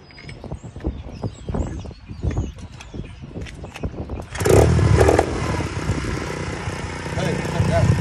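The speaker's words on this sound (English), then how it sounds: "One kick and the bike is up and running." A 125cc dirt bike engine kicked over, preceded by clattering and a voice, then catching into a loud, steady close idle with a quick rev at the start.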